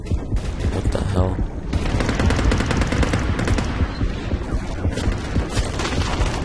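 Rapid automatic gunfire in the underwater shark-hunting video game Depth, dense continuous bursts loud and near throughout, with a voice briefly audible at the start.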